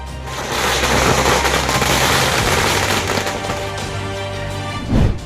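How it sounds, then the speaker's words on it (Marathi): Loud, dense crackling of firecrackers set off by Congress party workers in celebration, a continuous rattling barrage with a sharper bang near the end. "काँग्रेस पदाधिकाऱ्यांनी फटाक्याची आतिषबाजी करून जल्लोष केला"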